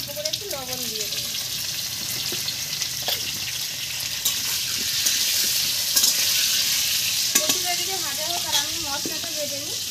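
Taro and potatoes fry with a pinch of salt in a pan, a steady close sizzle with spatula scrapes and stirring clatter, while a voice speaks briefly at the start and again near the end.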